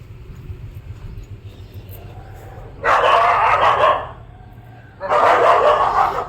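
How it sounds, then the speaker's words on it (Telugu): Several street dogs barking in two loud, sustained bursts, one after the other with a short lull between, over steady outdoor background noise. "మా వీధిలో ఎక్కువ కుక్కలు ఉంటాయి ఎప్పుడు ఎలా రియాక్ట్ అవుతాయో తెలీదు అందుకనే అవి ఫైటింగ్ అనమాట"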